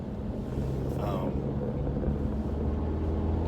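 Steady low rumble of a Mercedes car engine while driving, with constant road and wind noise throughout and a brief higher whine near the start.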